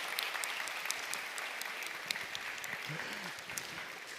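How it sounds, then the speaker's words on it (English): An audience at a mathematics lecture claps for a volunteer, a steady even patter of applause that fills the whole moment at a moderate, somewhat distant level. "big applaud for the volunteer"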